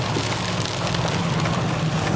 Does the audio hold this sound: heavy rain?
yes